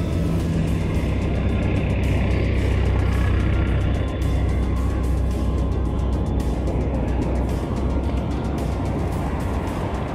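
A Skyboard BR40 72V electric off-road trike rolls along on mud tyres, giving a constant loud rumbling roar with a faint hum above it, steady throughout with no voices.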